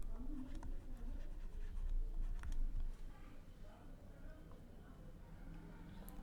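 Pen or pencil writing out a trigonometric integration solution by hand, a soft continuous scratching that runs steadily under quiet room noise throughout.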